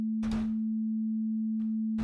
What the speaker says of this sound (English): If I change this to a sine wave